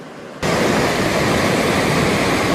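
A creek on rural California land flows as a loud, steady rushing hiss that cuts in abruptly and then holds constant, close and broadband, with no voices.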